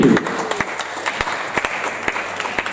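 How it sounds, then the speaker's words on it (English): A small group in a comic folk-dancing session gives a quick round of applause: loose, scattered claps of uneven rhythm, fairly close, with no voices. "Round of applause."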